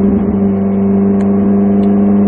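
A Ferrari F458 on a racetrack at Speed Vegas with its engine held under throttle, giving a loud, steady, close-up drone that stays constant with no talk.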